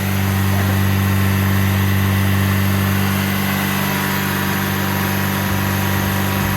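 A Nissan car engine idles steadily at close range, a constant low hum and drone with no change in pitch throughout.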